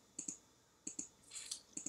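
Mouse clicks during a Minecraft Color Switch game, sharp double-click pairs repeating at a steady pace with a brief burst of rapid clicks between them, close and fairly quiet with no talk.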